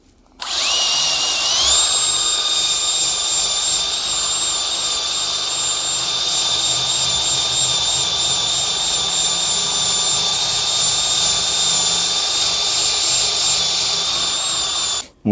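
Powered wire brush stripping rust off a part from a 2008 MBK X-Limit enduro motorbike: a steady, loud high-pitched whine with grinding hiss, running continuously for about fifteen seconds without talk.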